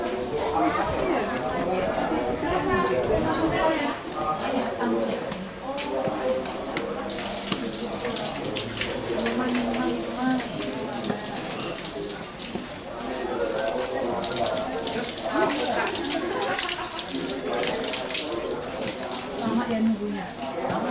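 A tap runs steadily while feet are washed, water splashing and hissing close by throughout, with people chatting over it.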